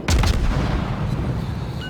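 Warship guns fire in World of Warships, a sharp close salvo of booming blasts at the very start that trails off into a rumbling decay.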